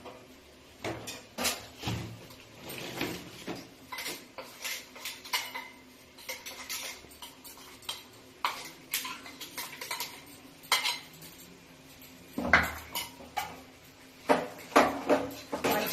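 A utensil scrapes and clatters in a pan as coconut powder is stirred into tomato chicken curry, irregular scraping strokes and knocks, close and fairly quiet with no speech.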